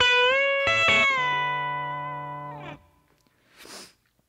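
An electric guitar plays a short Brad Paisley-style bent-note lick with a sliding, pedal-steel-like pitch bend, the notes ringing out and fading, followed by a brief soft scrape.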